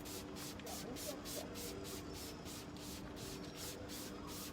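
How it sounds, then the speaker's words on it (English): Mitchell and King long-term sealant sprays from an aerosol in a faint, steady hiss made of quick repeated bursts, quiet and close with no other sound over it. "So I'll just get some, open this spray head,"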